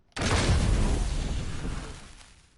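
A cannon fires in Fortnite with one loud, heavy boom that hits hard and then rumbles and fades over about two seconds.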